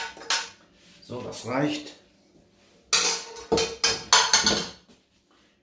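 A utensil scrapes food into a frying pan with loud, close metallic scraping and clattering in bursts separated by pauses, and a person speaks briefly between them.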